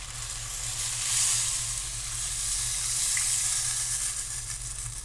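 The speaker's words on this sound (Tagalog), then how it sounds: "Lagay na natin ang ating gata." Coconut milk poured into rooster adobo simmering in a pan gives a steady close sizzle and hiss with faint stirring, no voices.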